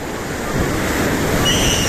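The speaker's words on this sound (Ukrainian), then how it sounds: "Подивіться, наскільки наскільки потужна хвиля." Powerful sea waves surge and wash near a pier, a loud continuous roar of surf with wind buffeting the microphone, no talking.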